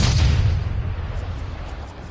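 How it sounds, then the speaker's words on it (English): A powerful golf tee shot, the club face striking the ball with a loud, booming crack like a cannon, its noise spreading broadly and fading over two seconds amid outdoor ambience. "did you hear the sound of that coming off the club face?"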